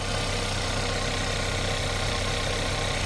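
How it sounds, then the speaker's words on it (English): An Audi A1 car engine, suspected of an alternator or earthing fault, idles with a loud, steady, even drone close by and no pauses. "I'm going to start the engine now."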